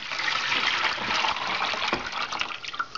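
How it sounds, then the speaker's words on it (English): Water poured steadily from a container into the top reservoir of a Nikken PiMag Waterfall filter, a continuous close splashing gush that thins and sputters toward the end. "pour some water"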